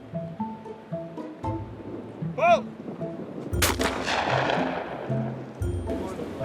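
Trap shooting outdoors: a single loud shotgun blast booms close by and decays into a long rumbling echo, with wind noise and low background murmur around it.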